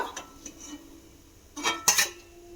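Fried bhola fish set down onto a metal plate, a few light metallic clinks and taps followed by a sharper ringing clatter near the end, close and fairly quiet with no talk.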